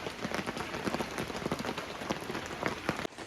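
Heavy rain outside on a cloudy day, a dense, steady patter of drops on surfaces heard fairly close and continuous, cutting off abruptly near the end.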